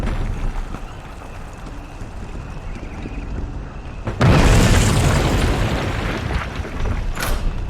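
A bomb goes off in the video game We Happy Few: after a quiet windy stretch comes a sudden loud blast that trails into a long rumbling roar, then a smaller burst near the end.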